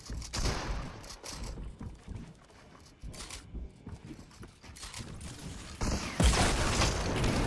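Shotgun blasts in the video game Fortnite ring out as several sharp, loud bursts spread across the stretch, mixed with busy in-game noise and movement.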